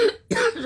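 A single harsh cough bursts out up close, a short throaty expulsion followed by a brief rough exhale, from a man troubled by a needle-like irritation inside him.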